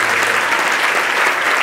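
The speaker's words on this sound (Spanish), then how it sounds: "Vamos a dar un aplauso" Congregation applause at the close of a Spanish-language church worship service, a dense, steady clapping that fills the whole stretch loudly with no break.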